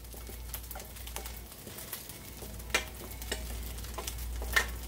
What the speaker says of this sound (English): I'm going to add my 16 ounces of frozen peas and carrots.